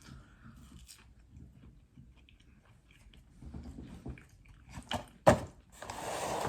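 Close crunching bites and chewing of loaded fries topped with bacon and cheese, quiet mouth sounds building to a sharp crunch near the end.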